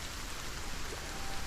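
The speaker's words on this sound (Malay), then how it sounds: "Oh, hujan." Steady rain falls in a survival video game, a dense, even hiss of drops that holds at a constant moderate level without a break and with no talking.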